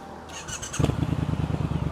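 A motorcycle engine fires up after a short starter whine, settling into a steady, close idle with a rhythmic low pulse.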